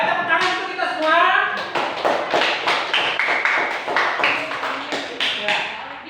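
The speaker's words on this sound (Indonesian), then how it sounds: "Baik, tepuk tangan untuk kita semua." A class claps together, short bursts of hand claps and taps repeating in a loose rhythm, with children's voices mixed in.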